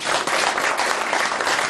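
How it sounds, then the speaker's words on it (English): Dense applause from a seminar audience during a hypnosis practitioner course, a steady, loud wash of many hands clapping together throughout, with no voices standing out. "Give them a round of applause"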